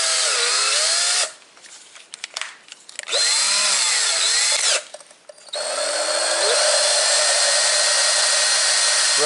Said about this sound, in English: if you put the drill on there and use the drill